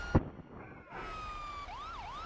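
A police car siren in GTA V Online wails up and down in a rising-and-falling sweep, starting after a sharp thump and running steadily to the end.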